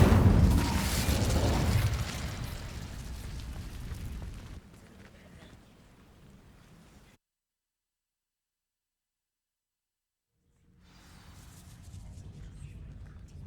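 An Incendio fire spell igniting dry vines in Hogwarts Legacy: a loud whooshing, booming burst of flame that fades over several seconds into silence, followed by quieter game ambience.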